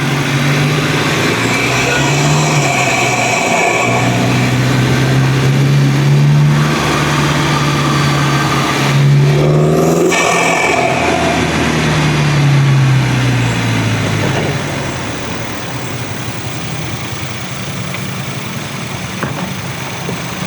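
A car engine revs hard with a loud, brutal intake roar, holding high revs and rising and falling in pitch before easing down to a lower drone near the end, close and loud throughout.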